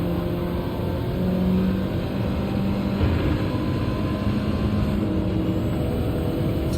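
Race cars in the Gran Turismo 7 video game roar close together during an overtake, a steady loud engine drone with shifting pitched tones that hold throughout without a break.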